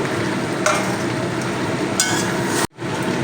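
Chicken curry with fried potatoes and Malabar spinach stems stirred and frying in a pan: a steady close sizzle with occasional scraping clinks of the spoon, broken by a brief silence near the end.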